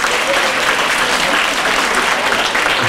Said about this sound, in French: Encore un applaudissement pour tous les candidats